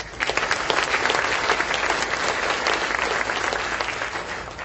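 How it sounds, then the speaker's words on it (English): Sustained audience clapping fills an awards-ceremony hall, a thick, continuous crowd applause of many hands at moderate distance, holding steady and tapering a little near the close, with no voices on top. "Give them a round of applause."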